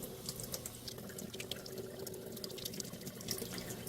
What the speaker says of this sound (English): they say to hold it under running water for 30 seconds